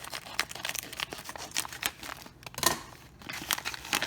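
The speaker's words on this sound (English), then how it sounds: "So, good thing I got scissors out." Ramen packaging crinkles and tears as scissors cut it open, a close run of crisp plastic rustles and snips with brief pauses between.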